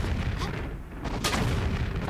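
Explosive ammo fires in Tomb Raider IV: The Last Revelation in Cleopatra's Palace, producing a dense, rumbling low boom with a sharper burst partway through, loud and continuous over the whole stretch.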